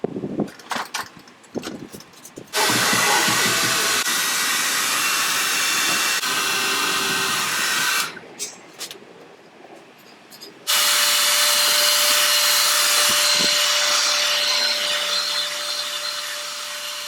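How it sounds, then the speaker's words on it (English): Hair dryer heating a BMW E92 335i fuel tank so it can be dented, a loud steady blowing whine running in two long stretches with a brief quieter gap and some clatter at the start. "I have to dent it with the hairdryer"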